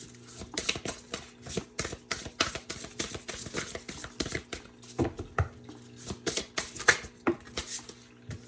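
Tarot cards shuffled by hand at a reading, a rapid string of crisp riffling slaps and flutters, close and fairly loud, with a low steady hum underneath and no speech.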